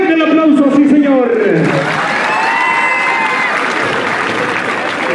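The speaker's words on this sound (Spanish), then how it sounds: "¡Fuerte el aplauso, sí, señor!" A jaripeo crowd at a rodeo arena applauds and cheers for a bull rider, a steady roar of clapping that continues under a loudly amplified announcer's voice.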